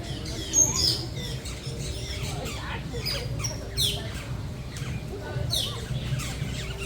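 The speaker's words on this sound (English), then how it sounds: "Lots of birds." A crowd of birds in the Animal Kingdom aviary squawks and chirps in scattered bursts over steady background ambience, with several sharp calls overlapping, some close and loud, others farther off.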